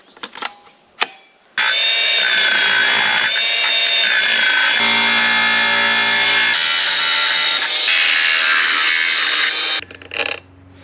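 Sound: angle grinder cutting and levelling a mount on an e-bike

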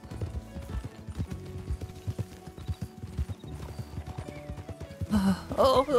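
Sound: horse hooves clip-clopping in a video game

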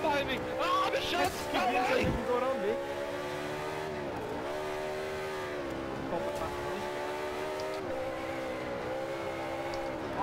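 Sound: Bugatti race cars in video game Forza 5

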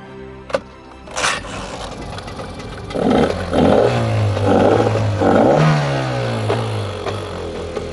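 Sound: boat engine being repaired and started

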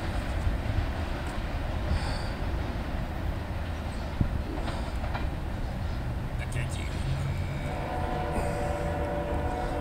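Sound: short CSX freight train Q583 passing northbound

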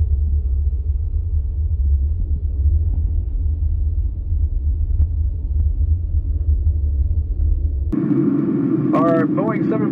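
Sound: jet airliner cabin engine rumble

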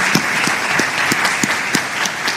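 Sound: audience applause

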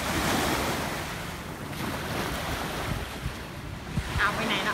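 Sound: sea waves at Jomtien Beach

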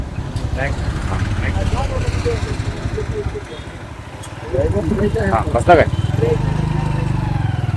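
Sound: motorcycle ride

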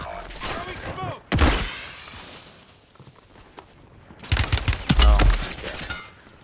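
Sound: gunfire in the video game Warzone 3

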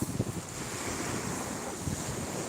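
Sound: sea waves

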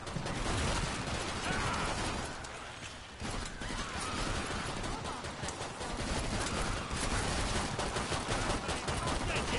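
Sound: pistol gunfire in the video game Killing Floor 2

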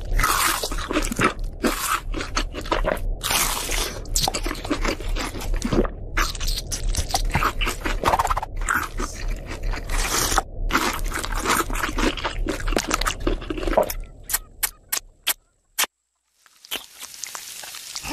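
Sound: crunching while eating fried chicken

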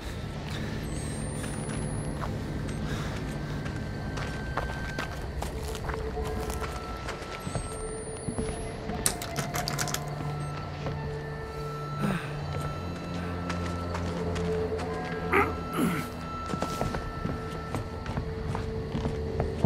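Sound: footsteps in video game Outlast 2

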